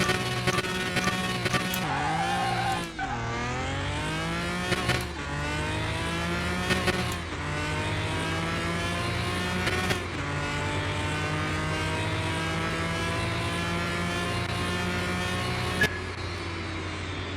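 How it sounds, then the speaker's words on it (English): A classic Bugatti accelerating hard down a drag strip, its engine note climbing through several gears with brief dips at each shift, loud and close throughout. "let's take it to the drag strip and do a little drag race with it"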